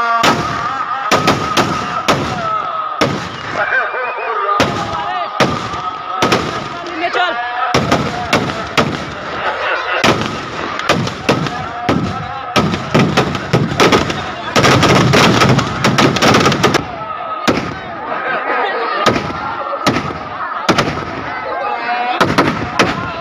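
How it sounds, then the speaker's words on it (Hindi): Fireworks burst repeatedly at a crowded Ravana effigy burning, loud and close, with sharp cracks and booms in rapid irregular clusters over a steady crowd din, with voices among it. "इस दौरान आतिशबाजी भी जमकर की गई"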